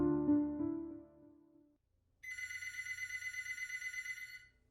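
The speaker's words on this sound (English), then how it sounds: "It was at midnight when the phone rang." A telephone rings at midnight in a motel in an animated horror story. A low musical tone fades out first, then a bright, loud, trilling electronic ring pulses rapidly for about two seconds.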